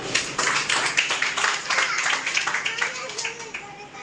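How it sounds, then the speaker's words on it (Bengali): An audience at a health product presentation claps together in a quick, even burst of applause that fades over a few seconds, with a voice speaking faintly beneath it. "তাহলে এরকম একটা প্রোডাক্টের জন্য একটা হাত তালি দিয়ে দিন"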